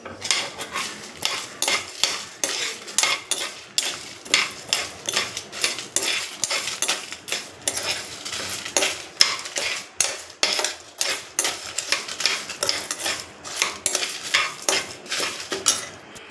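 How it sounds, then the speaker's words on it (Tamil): Chilli, cumin and mustard seeds roasting in a pan, heard as a steady run of quick metallic scrapes and taps of a spoon against the pan, fairly quiet and regular throughout with no talking. "மிளகா, சீரகம், கடுகு எல்லாத்தையும் நல்லா வறுத்துடலாம்."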